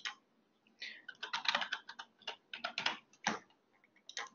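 Someone types a username and password on a computer keyboard: quiet, close clusters of quick key clicks in irregular bursts with short pauses between them, in a still room.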